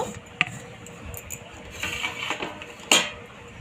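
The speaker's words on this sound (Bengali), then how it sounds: "এবার আমি এটা চাপা দিয়ে দশ মিনিট রেখে দেব" A lid clinks onto a metal pan of patisapta batter in a home kitchen, giving a sharp metallic clatter near the end after lighter taps and handling noises.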